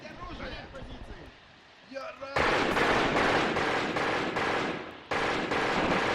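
Sustained, loud machine gun fire in the Graviteam war game during a battalion-wide attack, dense rapid bursts hammering continuously after a quieter opening with a voice, briefly dipping then resuming.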